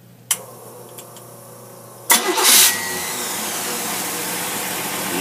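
A boat engine fitted with a rebuilt Rochester carburetor cranks and catches with a loud burst, then settles into a steady, even idle close by, preceded by a couple of faint clicks.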